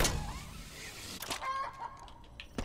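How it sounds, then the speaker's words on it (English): A chicken clucks a few times in the Halo Infinite multiplayer map Bazaar, short fowl calls set among game effects and footsteps, moderately loud against a busy backdrop. "Is that a chicken?"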